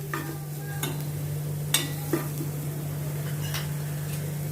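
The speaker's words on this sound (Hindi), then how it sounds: "नमक डाल के मैं मिक्स करती हूँ।" A spoon stirs salt into a potato-snack mixture in a pan, giving a few soft scrapes and taps over a steady low hum, close by and fairly quiet.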